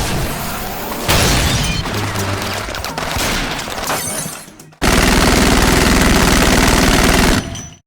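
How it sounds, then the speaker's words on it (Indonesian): Dense movie gunfire blasting into a sofa, loud bursts of rapid shots and crashing impacts in two long barrages separated by a short break, with no talk. "Jason pun mengambil senjata miliknya untuk membalas tembakan dari dalam kolong sofa tersebut"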